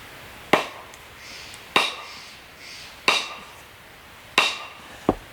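A Husqvarna 26-inch forest axe head being hammered down onto its wooden handle: four sharp, evenly spaced impacts ring out clearly, each with a brief decay, followed by a lighter fifth tap at the end.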